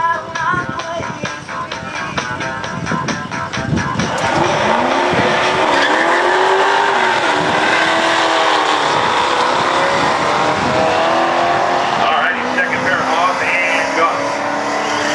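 Mustang race cars at a drag strip launch with a rough, crackling engine burst, then roar loudly and continuously down the track, engine pitch climbing through gear changes before fading, with an announcer talking over it.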